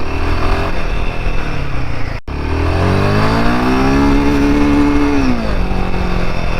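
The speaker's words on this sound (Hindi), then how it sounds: "easily touching 9000 rpm in first gear" A Royal Enfield Himalayan 450 motorcycle revs hard in first gear, its engine note climbing to high rpm, holding, then falling away after a brief dropout, loud and close.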